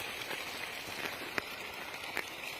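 Fresh water gushes steadily from a pipe at the historic well of Hazrat Usman Ghani, where pumping motors draw it up; a continuous hissing, splashing rush fills the whole stretch, close and even, with a few sharper drips standing out.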